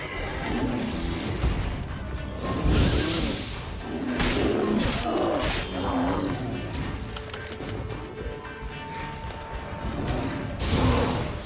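A bear in The Witcher 3 growls and roars in several rough bursts spread across the stretch, loud and close, mixed with combat swooshes and occasional background game noise.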